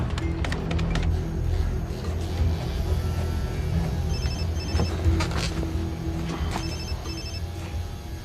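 A telephone rings in a drama scene as a call is placed, a repeating electronic ring pattern heard in short bursts over a steady background hum.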